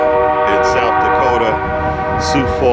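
Trains roll past with a sustained, loud horn blast holding steady harmonic tones throughout, accompanied by rumbling rail noise and a voice talking over it.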